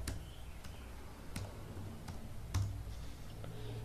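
Typing on a computer keyboard during a school computer lab exercise: sparse, distinct key clicks spaced irregularly about half a second apart, close and fairly quiet over a soft room hiss.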